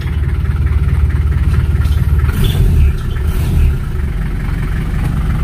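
A Ford Ranger 4x4 diesel engine runs after starting on glow plugs, a steady low rumbling idle that stays loud and close throughout, swelling briefly midway.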